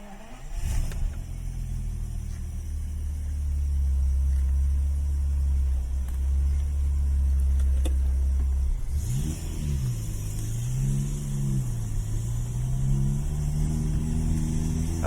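A Daimler Double Six XJ12 with a V12 engine fires up and settles into a deep, steady rumbling idle, then is revved several times in smooth rising and falling swells, heard from inside the car.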